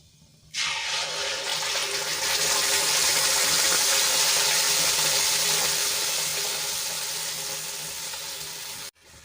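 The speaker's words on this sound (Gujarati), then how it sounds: "આપણે જે ગ્રેવી બનાવી હતી એ ઉમેરી દઈશું" Prepared gravy for paneer lababdar poured into a hot pan, starting suddenly as a loud, broad sizzling hiss that holds steady for several seconds before slowly easing and cutting off.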